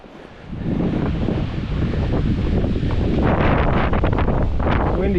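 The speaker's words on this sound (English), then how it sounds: "Windy up here." Strong wind blasts across a mountain high point during a fatbiking and snowshoeing outing, starting quieter then surging into a loud, rough, continuous roar hammering the microphone.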